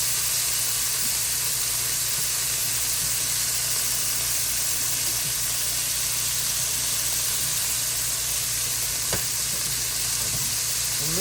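Swai fish fillets fry in oil in a pan, giving a steady, close, loud sizzle and hiss throughout with occasional faint stirring sounds and no talk.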